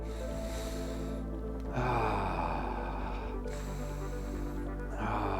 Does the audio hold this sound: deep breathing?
yes